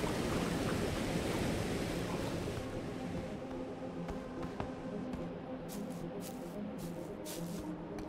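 Waterfall in the video game Bugsnax, a steady loud rushing roar of falling water that fills the scene, gradually thinning, with a few faint clicks toward the end and no talk.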